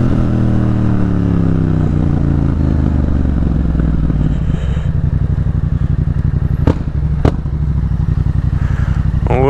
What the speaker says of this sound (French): c'est un moteur qui tape vraiment, qui cogne, et le son il est vraiment super aussi